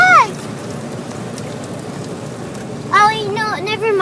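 Water sprays steadily over a car inside an automatic car wash, a dense rain-like hiss filling the cabin throughout, while people talk briefly at the start and again near the end.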